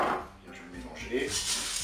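A spoon scrapes and clinks against the inside of a Cookeo pot while stirring pasta and drained, flaked tuna, with a few close metallic knocks and soft shuffling.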